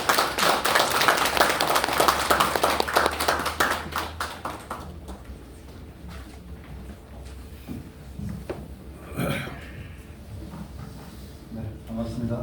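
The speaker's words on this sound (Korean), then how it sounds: "큰 박수 부탁드립니다." An audience at a memorial society gathering applauds loudly, with dense clapping for about four seconds before it thins into a few scattered claps, and a speaker's voice follows.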